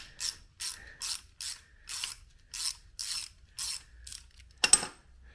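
A ratchet wrench clicks in about a dozen quick, evenly spaced bursts while loosening exhaust nuts on a Honda XR70 engine, close and crisp, ending with a brief metallic clatter.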